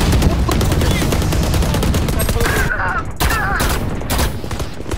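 Loud, dense gunfire bursts and a blast crackle without pause during a video game match, with a player's voice heard over the shooting.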